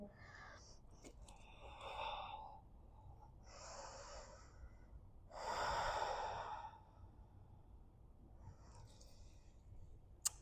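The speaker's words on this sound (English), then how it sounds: "Keep breathing." Slow, deep breaths during a yoga session on twists and hips, a few long audible exhales and sighs spaced apart, soft and close.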